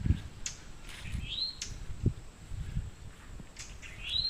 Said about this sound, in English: Hear that bird going treat, treat. That's a towhee.